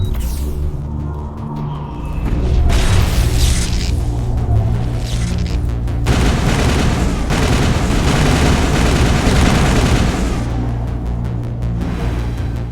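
Weapons fire in Mass Effect, heard as a long run of loud gunshots and booms over a steady background of game ambience and music, with no talk.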